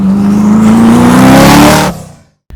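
Hennessey Venom GT roaring hard as it accelerates on a handling course, a loud rising engine note building over about two seconds before cutting off abruptly.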